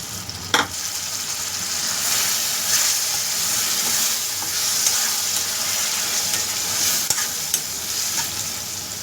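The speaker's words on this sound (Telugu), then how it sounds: "ఇప్పుడు టమాటా పేస్ట్ వేసుకుందాం." Tomato paste frying in a pan for Andhra-style fish curry, a steady close sizzle and hiss with a few scraping stir strokes and no talking.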